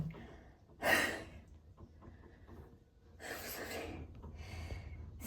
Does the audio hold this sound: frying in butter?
no